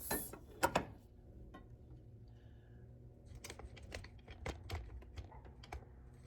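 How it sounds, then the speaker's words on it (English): Mechanical clicks and ratcheting from the warp beam mechanism of a LeClerc Nilus floor loom as it is extended: a couple of sharp knocks early on, then scattered light clacks and rattles, close by and without talk. "I will extend the warp beam mechanism away from the castle and reattach my brackets."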